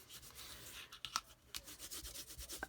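A bone folder rubs firmly over paper hinges in short repeated strokes, making a soft dry scratchy burnishing sound, close and very quiet.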